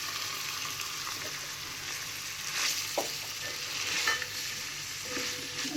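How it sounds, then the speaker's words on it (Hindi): Shredded boiled chicken filling for spring rolls is stirred and mixed in a pan, with a soft continuous sizzle and scattered scraping, clinking taps of the utensil against the pan. "इसको अच्छी तरह मिक्स कर लें।"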